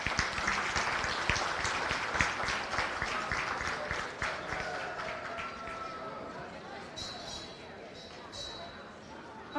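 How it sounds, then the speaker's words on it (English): Brisk clapping from a crowd at the 2025 Montgomery County Fair goat show honours the young exhibitors, fading after a few seconds into quieter arena noise with faint chatter. "Let's give these kids a big round of applause."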